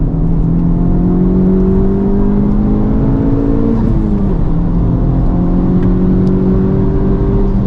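A Honda Civic Type R FL5 with a COBB Accessport 93 tune accelerates hard along a track straight, its engine note rising steadily and loud from inside the cabin, with a brief dip around a shift before climbing again.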